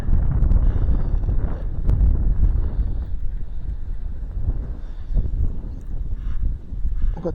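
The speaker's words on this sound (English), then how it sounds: "But the wind's making it a lot more difficult to stay positioned here the way I want to." Strong wind blowing outdoors, buffeting the microphone with a steady low roar and gusty surges throughout, no talking.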